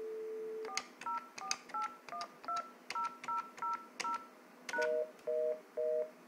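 A Cisco SPA 962 desk phone, hooked up through an EdgeMarc 4500, gives a dial tone and then a run of short, evenly spaced keypad tones as it dials out, ending in a few repeated paired tones, clear and close with no talking.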